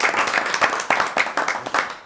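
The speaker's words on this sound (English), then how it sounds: "let us give an applause to those who helped put that together" Audience applause at a school board meeting, close and fairly loud clapping from a modest group, with uneven rhythmic bursts throughout.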